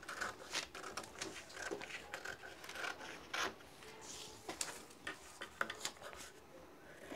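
Scissors cut blouse fabric with soft, faint snips and rasping rubs close by, coming in an uneven rhythm for several seconds.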